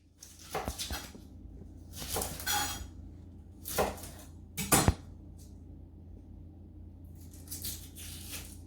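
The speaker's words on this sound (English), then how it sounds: "I'm going to start by just cutting up an onion." An onion being chopped on a board for lasagne, several separate bursts of knife strikes with short gaps between them, close and crisp against a quiet kitchen hum, with no talk.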